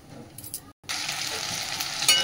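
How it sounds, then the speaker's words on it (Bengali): Whole garam masala spices sizzle in hot oil in a wok, a loud steady frying hiss that briefly drops out, then returns strong and bright, with a faint stir near the start. "কড়াতে তেলও দিয়ে দিয়েছি। এই যে ফোড়ন দিয়ে দিচ্ছি গরম মশলা।"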